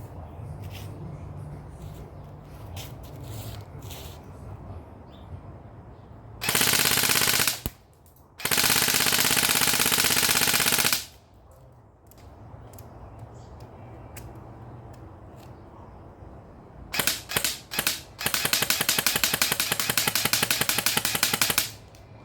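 Airsoft Scorpion AEG firing in two sustained full-auto bursts, loud and close, with a rapid buzzing mechanical rattle, quiet handling sounds in between and a few short bursts before the second long string.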